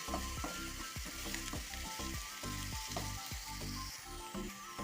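Onion, ginger and garlic sautéing in a pan over medium flame, with a steady loud sizzle broken by rhythmic scraping strokes of a spatula stirring the mix, continuous throughout.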